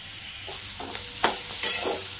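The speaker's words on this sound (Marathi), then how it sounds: "हा मटार आपल्याला आहे ना यावर चांगला परतून घ्यायचा आहे" Green peas sauté in a pan with a light, steady sizzle and a few sharp stirring scrapes, close by and without talking.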